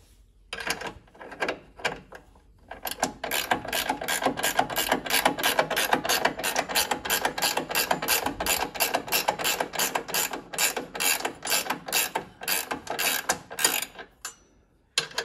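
Rapid ratchet clicking while rear control arm bolts are tightened on a Metalcloak Gamechanger suspension, long steady bursts of sharp metallic ticks close up and loud, briefly pausing before resuming.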